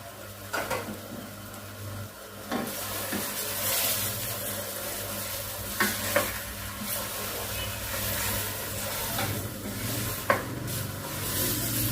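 Spice masala for aloo gosht, with tomatoes, salt, turmeric and red chilli, sizzles steadily in a pot while a spoon stirs and scrapes it in irregular, close, distinct strokes.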